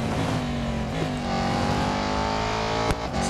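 Aston Martin Vantage GT4 race car engine in Real Racing 3, a steady loud droning engine note holding high revs through a curve, with a slight pitch dip and a brief click near the end.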